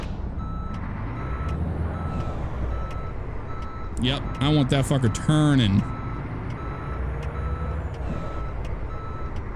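Reversing beeps from a truck backing up a trailer in American Truck Simulator, a steady evenly spaced beeping that sits over a continuous engine rumble, with a louder stretch around the middle of the clip and someone talking over it.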